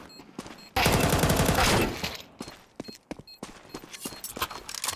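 Rapid SMG gunfire in Counter-Strike during a BLAST.tv Austin Major 2025 pro match: a dense, loud burst of about a second, followed by scattered shots, footsteps and game noise.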